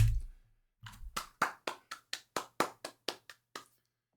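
A short burst of clapping from a few people in a C++ lecture class, sharp separate claps in a quick, slightly uneven rhythm that stops after a few seconds.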